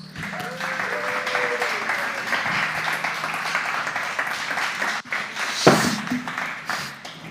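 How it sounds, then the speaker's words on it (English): Applause from a crowd, a steady wash of clapping that swells and carries on for several seconds, with a few sharper claps near the end. "So Hannah, come on up here to the sound of thunderous applause."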